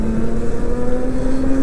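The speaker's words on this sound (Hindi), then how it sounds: "ये धीरे धीरे फिर स्कूटर अपनी स्पीड गेन करता है और 42 पे ये लॉक हो जाता है" An Ola S1 Pro Gen 3 electric scooter gathers speed in eco mode, its motor giving off a steady, even whine over low road and wind rumble, with no talking.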